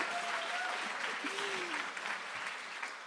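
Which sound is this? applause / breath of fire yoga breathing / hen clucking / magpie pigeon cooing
applause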